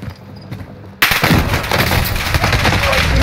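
Gunshots in Warzone Resurgence, a sudden loud burst of rapid gunfire erupting after a quiet moment and continuing densely to the end.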